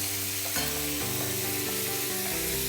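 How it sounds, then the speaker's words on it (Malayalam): Beef and koorka sizzle steadily in a hot pan for a Thrissur-style ularthiyathu, with spoon scrapes and stirring strokes repeating every half second or so over the continuous frying hiss. "ഇതിലേക്ക് 1 കപ്പ് ബീഫ് സ്റ്റോക്ക് ചേർത്തെടുക്കുക."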